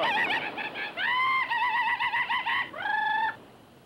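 A person vocally imitates bird calls: a series of harmonic, rooster-like calls, a few short bursts followed by longer drawn-out crows, clear and close with no speech.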